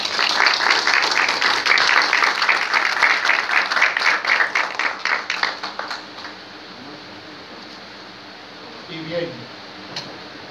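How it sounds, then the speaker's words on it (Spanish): Audience applause at a Gnostic philosophy lecture, loud and dense with clear individual claps, tapering off after about six seconds into quiet room noise with a faint voice near the end. "Un aplauso."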